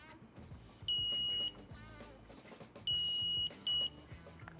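Battery-powered pruning shears beep when the button is pressed and held: one sustained electronic tone, then a second long beep followed shortly by a brief one, all over low background rustle.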